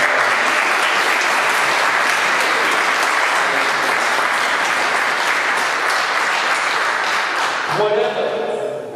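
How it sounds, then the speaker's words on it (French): Sustained audience applause at a support evening, loud and dense for about eight seconds before stopping abruptly, followed by a brief murmur. "un des membres du comité de soutien que je vous demande d'applaudir"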